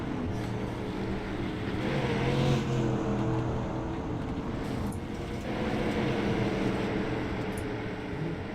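Race cars in the iRacing video game at the Lanier track drone continuously as multiple engines hum and swell together in a steady, moderately loud pack.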